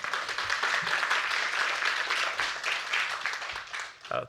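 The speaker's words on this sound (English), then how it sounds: "So can we have a round of applause for František?" An audience at a young professionals debate on water security gives a speaker a round of applause, with steady clapping throughout that dies away near the end.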